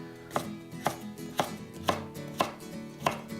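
A knife chops yams into bite-sized pieces on a cutting board, six crisp, evenly spaced strokes about half a second apart, close and clear with no talking.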